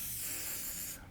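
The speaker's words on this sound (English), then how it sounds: "I'm gonna spray it right here on my tabletop that I'm working on." Charcoal gray spray paint hisses from an aerosol can onto a tabletop in one loud, continuous, close burst that cuts off abruptly just before the end.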